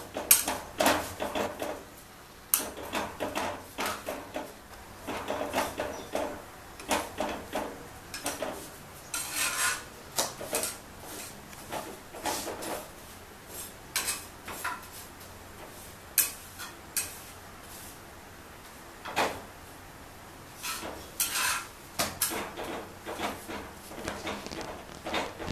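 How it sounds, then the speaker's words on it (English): Goan chapati pressed at the edges and roasted on a tawa, soft irregular taps, scrapes and light clatter of a utensil against the pan, fairly quiet and close, with brief pauses between strokes. "One has to press the edges so that the chapatis get roasted well."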